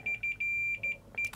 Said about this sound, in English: And of course that will beep there